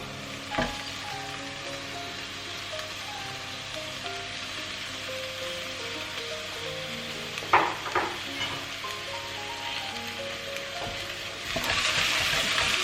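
Plant-based bolognese sauce with parsley sautéing in a pan, a continuous close sizzle with a few sharp spatula stirs and a louder hiss near the end, under soft background music.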